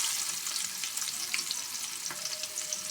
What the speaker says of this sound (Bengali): পেঁয়াজটা আমি একটু নরম করে ভেজে নেব